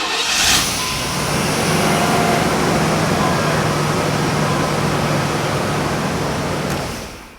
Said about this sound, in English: for whatever reason, the first crank, it cranked up immediately